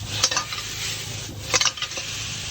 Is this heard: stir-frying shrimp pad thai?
yes